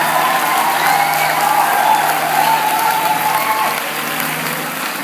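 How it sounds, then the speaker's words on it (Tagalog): A church audience breaks into loud, dense applause, a continuous roar of many clapping hands that holds steady and then softens slightly near the end. "Yung palakpak nyo pang barangay."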